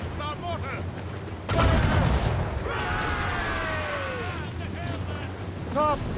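Ship mortar fire in the video game Assassin's Creed Rogue, a heavy blast that lands partway through and rumbles on amid naval battle noise, with voices shouting before and after.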